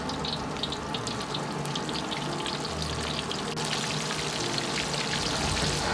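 Chicken racks deep-frying in hot oil heated to about sixty percent, a dense steady bubbling crackle that stays even and fairly loud throughout, with no voices.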